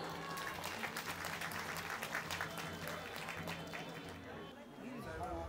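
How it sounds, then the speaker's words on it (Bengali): Audience applause at a welcome ceremony for a guest of honour at a regional fair in Malda, with steady, dense clapping throughout and crowd chatter underneath, fairly distant and even in level. "প্লিজ সকল দর্শকরা একসাথে হাততালি"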